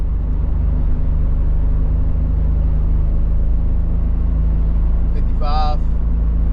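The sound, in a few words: 1993 Nissan 300ZX engine driving in fourth gear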